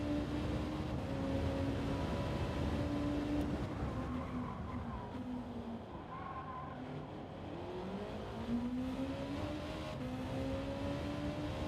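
Honda NSX race car in Gran Turismo 7 lobby racing, its engine droning steadily with rising and falling pitch through shifts at moderate level, alone without talk.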